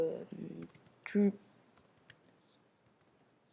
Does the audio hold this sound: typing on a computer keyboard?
yes